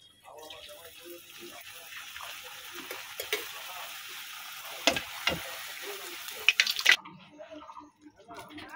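Food frying in a home kitchen pan, a soft continuous sizzle with intermittent clattering and stirring clicks, a few sharper spatters midway, quiet overall and trailing off near the end.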